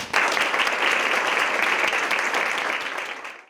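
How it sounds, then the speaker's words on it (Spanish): Audience applause at a year-end event on a human look at technology, a dense, steady burst of clapping that fills the room for about three seconds and then tapers off at the end. "más que merecido ese aplauso"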